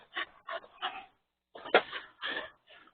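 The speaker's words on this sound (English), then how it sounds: "This is my dumb ass dog." A dog pants heavily and whimpers close by in quick breathy bursts, a short run, a pause, then another burst with a sharper whine, and no talking.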